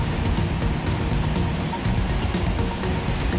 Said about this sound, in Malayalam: ശക്തമായ കാറ്റും മഴയും ഇടവിട്ട് തുടരുകയാണ്